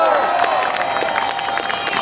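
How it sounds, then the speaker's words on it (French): Crowd at a march and vigil breaks into applause and cheering, dense clapping and shouts filling the space continuously for a couple of seconds at close range. "Je crois qu'ils méritent une bonne main d'applaudissement."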